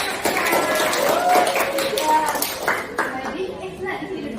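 A class of students applauds during a classroom teaching simulation, giving a broad wash of clapping mixed with crowd chatter and a voice over it, then tapering off toward the end.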